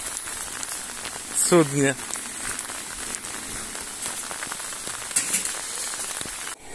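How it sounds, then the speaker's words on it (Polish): Rain patters steadily and densely on a surface while living on the water in Poland, filling the whole clip, with a person briefly speaking over it. "Jak się rozpadało."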